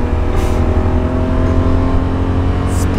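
Nissan Skyline engine revving and pulling hard under acceleration, a loud steady drone heard from inside the car with no pauses.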